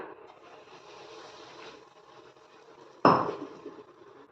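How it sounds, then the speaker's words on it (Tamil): Semolina roasting in ghee in a pan gives a soft, low scraping and shuffling sound as it is stirred, then a sudden loud clank of utensil against the pan that fades over a second. "நெய்யில் வந்து ரவை வந்து நம்ம வறுக்கிறச்ச கட்டி இல்லாமல் வறுத்துக்கணுங்க இந்த மாதிரி"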